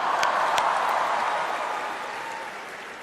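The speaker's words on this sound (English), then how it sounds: "Can we have a huge round of applause for my opening act" Audience applause at a comedy roast, a broad wash of clapping from a large crowd that is strongest at the start and slowly fades over about three seconds, with no talk over it.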